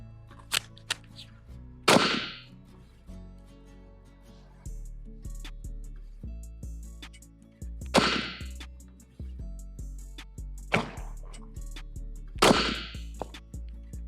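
Gunshots from a cheap Glock pistol fired at an outdoor range, four loud sharp cracks spaced a couple of seconds apart with quieter clicks and handling noise between them.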